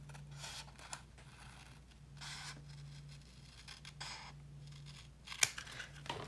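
Scissors trim excess overage from a card envelope pocket in several bursts of close, crisp cutting rustle, ending in a sharp snip, over a faint steady hum.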